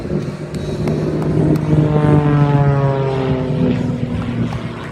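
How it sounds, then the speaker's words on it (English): A propeller aerobatic plane at an Ocean City air show performs a tail slide, its engine drone rising and falling in pitch as it loses airspeed and flips over, fairly loud and steady. "It's going to let the airplane run out of airspeed and flip back over."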